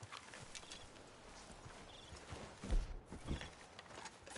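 Horses clip-clop along in a Red Dead Redemption 2 video game scene, their hooves giving a few soft, irregular thuds over faint ambient background, with one heavier pair of steps near the end.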